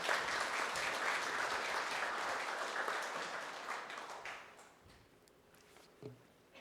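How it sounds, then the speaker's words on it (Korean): Audience at an international friendship evening claps warmly to welcome a speaker, a dense round of applause lasting about four seconds before thinning to scattered claps and quiet room noise. "여러분 박수로 맞이해 주시기 바랍니다."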